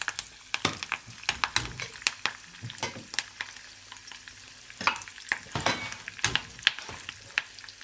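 Green chilies and curry leaves hit hot oil while cooking upma, with crackling sizzle and sharp pops over several seconds, broken by bursts of stirring and scraping in the pan.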